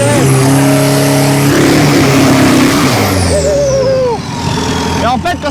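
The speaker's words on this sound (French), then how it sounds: "Et là ça va faire le burn." A diesel drag racing car at a Thai drag strip revs hard for a tire burnout, a loud roaring engine with shifting tones and hiss that eases off near the end, with people talking over it.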